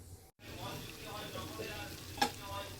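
A vegetarian potato and cauliflower curry simmers in a pan with a soft, steady sizzle and bubbling, and a single bright clink of a utensil near the end.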